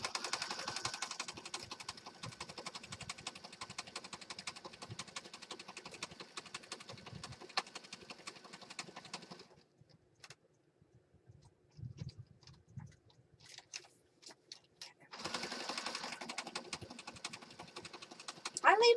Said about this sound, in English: we're just going to zigzag stitch right around this image